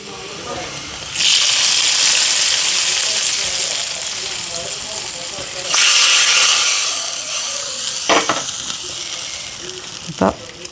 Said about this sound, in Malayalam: നമ്മൾ ഉള്ളിയൊക്കെ ദേ കാച്ചി മൊരിയിച്ചെടുത്തിട്ടുണ്ട് അപ്പം അത് നമുക്ക് എനിക്ക് ഒഴിച്ചു കൊടുക്കാം